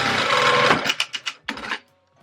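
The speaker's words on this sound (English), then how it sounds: "we're going to go sew over the whole thing" A sewing machine stitches across a quilted boxy bag with a close, loud mechanical whir, then slows into a few short stuttering bursts before stopping.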